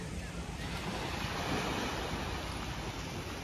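Ocean waves wash steadily at sea off Boracay during a sunset sailing trip, a continuous broad surf rush mixed with wind buffeting the microphone, with no speech.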